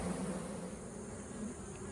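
Caught honey bee swarm buzzing at a hive, a steady low drone of many bees, quiet and continuous with no voices.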